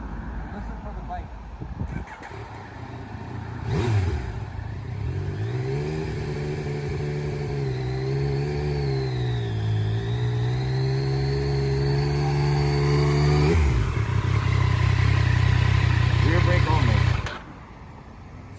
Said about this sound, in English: Listen for the bike.